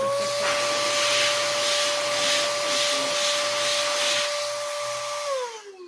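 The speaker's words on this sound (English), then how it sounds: "So it not only is a vacuum, it's a blower." A vacuum cleaner's exhaust port run as a blower gives a loud, steady motor whine with rushing air hiss, holding constant for several seconds before the motor spins down and fades at the end.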